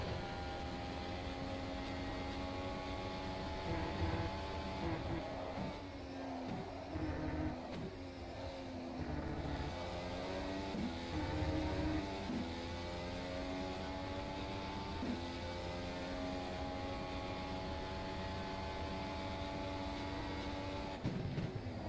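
A high-revving race car engine in the rFactor 2 racing game at Silverstone drones continuously, with pitch rising and falling through gear changes and corners, loud and close throughout.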